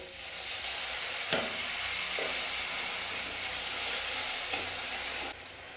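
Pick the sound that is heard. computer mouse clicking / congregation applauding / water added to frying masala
water added to frying masala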